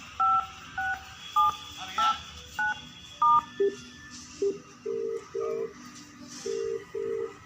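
A telephone is dialed during a Holi song video shoot: about a dozen short, clear keypad tones, spaced at an uneven, quick rhythm, sound close by over faint background noise.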